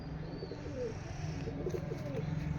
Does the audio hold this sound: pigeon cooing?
yes